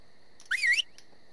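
One short rising whistle blown to call a creature in the game Ark, a brief clear tone against near silence.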